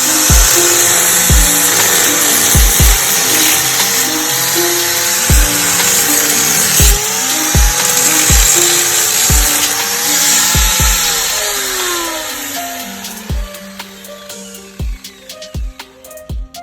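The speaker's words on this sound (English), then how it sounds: "heat it up with my torch, and grind some of that off and get to hitting" Power tool grinding down a seized lower ball joint on a 2009 Yukon XL truck, a steady loud whine running throughout, punctuated by sharp regular metallic knocks and taps, thinning into scattered hits near the end.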